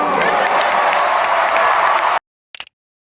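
A concert crowd of more than 50,000 people roars and cheers as a dense, loud, sustained wall of noise, cutting off abruptly and followed by a brief burst of sound.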